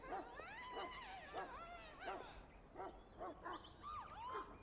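Whining, yelping dog sounds from a hound in the video game Dragon Age: Origins rise and fall in short bursts, bright and close, with an electronic, game-like quality.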